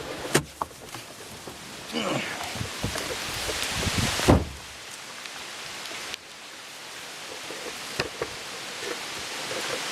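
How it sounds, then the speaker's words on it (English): Rain falling at a campsite, a steady hiss of drops on surfaces close by with scattered louder taps and rustles, plus a brief bump partway through. "since it's raining, there's going to be clouds and rain all night"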